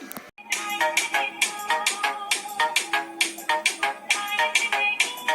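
A mobile ringtone plays a bright, rhythmic melody of repeated chiming notes, clear and alone without any voices.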